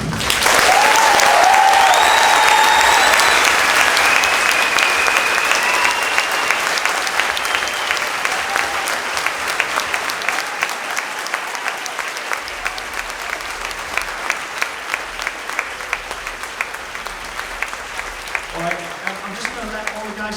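Audience at a vegan camp-out applauding after a talk, with a burst of loud clapping and a few cheers that gradually thins out to scattered claps.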